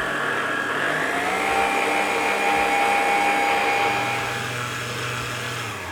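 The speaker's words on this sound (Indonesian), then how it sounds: "Mixer lagi selama kurang lebih 8 menit sampai 10 menit tergantung mixer kalian." An electric mixer whirs steadily and loudly as it beats pandan sponge cake batter with emulsifier added, a continuous motor drone that holds an even pitch with no talking.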